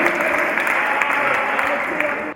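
Steady applause from an audience at an Urdu poetry recital, a dense even wash of many hands clapping at a close, loud level for the whole moment and then stopping abruptly.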